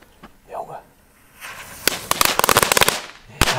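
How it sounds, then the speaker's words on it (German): Firecracker powder used for painting with fireworks crackles and pops in a dense, rapid burst of sharp snaps after a soft hiss, close by, with people talking before it. "Knallkraut ist wirklich in der Pyrokunst besonders weit vorne"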